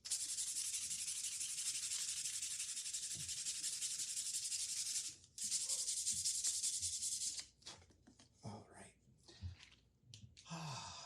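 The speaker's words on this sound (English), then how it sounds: "Sandpaper." Sandpaper rubs steadily against a wooden carving, a continuous close scratchy hiss lasting several seconds, then breaking into shorter irregular strokes with quiet gaps.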